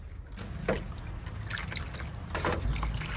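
Glycerin solution being stirred and mixed in a container, giving soft close liquid sloshing and trickling sounds with a few small splashes, no talk.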